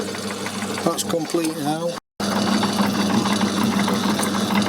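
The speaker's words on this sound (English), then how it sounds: "I'm just going to put a chamfer on this front end." A metal lathe cuts a chamfer on a spoke nipple, a close mechanical whir with a short gap midway, while a person briefly speaks over it.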